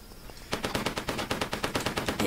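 Rapid enemy gunfire in the Tomb Raider custom level Fading Light: after a quiet half-second, a steady burst of about a dozen evenly spaced loud shots, machine-gun style, with no talking.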